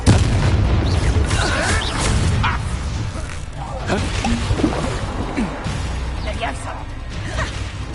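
Spell explosions crash and boom during Hogwarts Legacy combat, loud repeated blasts, whooshes and thuds over a busy game mix, with voices shouting among the impacts.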